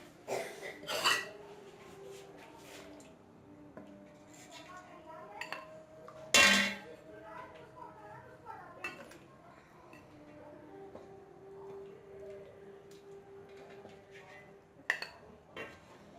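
Chicken pieces go into a pot of yakhni soup with scattered metallic clinks and knocks of a spoon against the pot, and a sharp louder clank midway, under soft breathing and quiet voice sounds.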